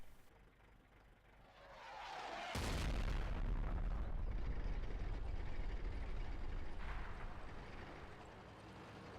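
Artillery fire in World of Tanks lands as a sudden heavy impact, with a rumbling, debris-filled blast that lingers for several seconds at moderate volume and no speech.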